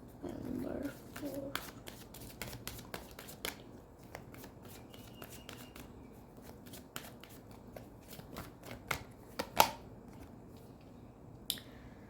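Tarot cards shuffled by hand, a dense riffle at the start followed by scattered sharp card slaps and flicks, close and alone in a quiet room.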